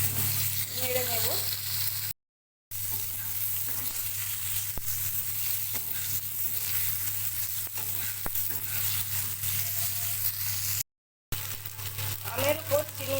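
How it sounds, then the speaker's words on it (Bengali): Cut mangoes frying in a pan with sugar, salt and turmeric, a continuous close sizzle with stirring scrapes and clinks and a low steady hum beneath, broken by two short silent gaps. "নুন হলুদ দিয়ে দিয়েছি, নেড়ে নিচ্ছি।"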